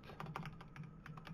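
A search is typed on a computer keyboard: a quick run of soft, close key clicks in an uneven rhythm, with no one speaking.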